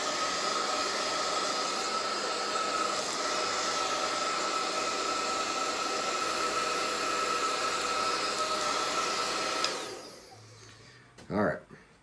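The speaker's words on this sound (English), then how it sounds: "I take my wife's blow dryer and I blow dry the area" A handheld blow dryer blows steadily at close range to dry skin during an ostomy bag change. The constant airy roar runs for about ten seconds, then cuts off, followed by a brief faint clatter.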